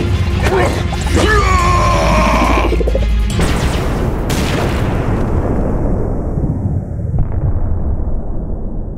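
A special green cannon fires in a video game, a loud booming blast with crashing impacts and a long rumbling roar that stays heavy and dense, with game effects layered over it.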